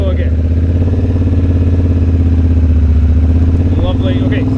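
Triumph Bobber motorcycle on the move, its engine a close, steady, throbbing low rumble that holds an even pace throughout, with a slight shift in tone near the end.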